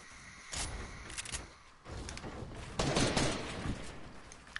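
Video game gunfire in a duos match: bursts of close, loud shots with thuds, arriving in clusters separated by brief lulls.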